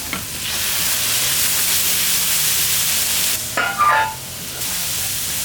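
Butter, corn and green beans hit a hot pan and sizzle steadily at close range, a dense frying hiss that is briefly stirred and scraped partway through, with no voices.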